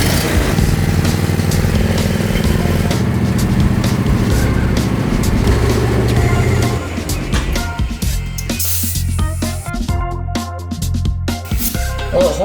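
A riding lawn mower engine runs loud and close as it is driven, a steady rough drone that shifts and becomes choppier partway through, with no talk.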